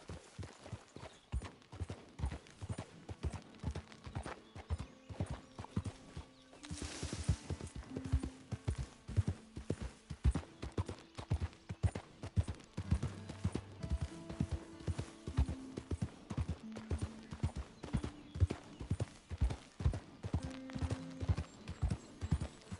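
Quiet hooves clip-clop in a steady walking rhythm throughout, with a horse's whinny and faint tonal music in the background, from the video game Red Dead Redemption 2.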